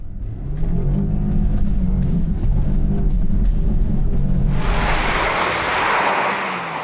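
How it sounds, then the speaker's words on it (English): Land Rover Defender driving hard off-road in sand, its engine a loud steady roar that holds and revs, then a rushing hiss of sprayed sand or wind swells over it near the end. "The sand off-road mode that stops traction control intervention might just be the Defender's get out of jail card."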